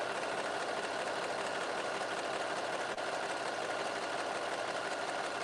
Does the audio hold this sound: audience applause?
no